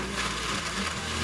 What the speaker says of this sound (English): So let's blend it up.